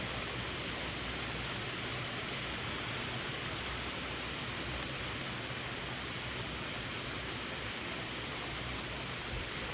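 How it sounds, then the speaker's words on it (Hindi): Rain falls steadily on garden plants, a dense, even hiss of drops that continues without pause at a soft, constant level. "ये देखो बारिश भी लगी हुई थी"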